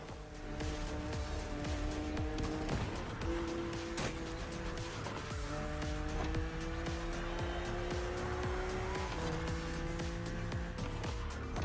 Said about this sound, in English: BMW Z models are what we call roadsters. 2-seaters made for relaxing behind the wheel